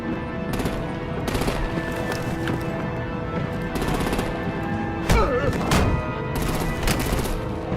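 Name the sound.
artillery gunfire in the video game Batman Telltale Season 2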